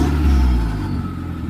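A Mk1 Audi TT 225 8N engine revs hard during a wastegate actuator check, a loud sustained roar that eases slightly toward the end, close by with no talking.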